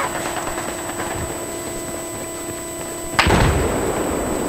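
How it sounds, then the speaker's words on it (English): Mounted stationary gun firing in an online shooter game, a sudden loud blast cutting through steady ongoing game noise and a constant background hum. "Guy at the stationary gun at their base shooting the Alpha"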